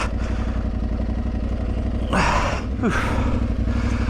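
An Aprilia Tuareg 660 motorcycle rides off-road into ruts, its engine droning steadily throughout, with two louder bursts of clattering, rushing noise near the end as the bike drops into the tracks.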